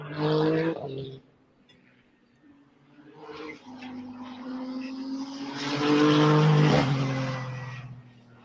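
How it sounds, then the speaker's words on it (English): A Ferrari Formula 1 car in wet conditions at the 2023 Australian Grand Prix lets out a loud whining burst, drops away, then builds again into a rising electric-motor and engine whine that peaks strongly before easing off. "Dude, you hear the electric motors back winding?"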